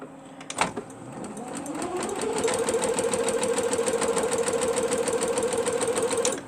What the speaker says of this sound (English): And I'm going to start sewing all these down now.